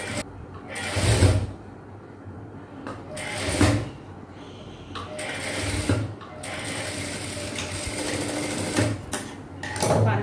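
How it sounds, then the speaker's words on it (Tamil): A sewing machine stitches a blouse in several bursts of rapid mechanical whirring, broken by short pauses and handling clicks, close by. "இந்த பக்கம் நான் ஸ்டிச் பண்ணிட்டேன்"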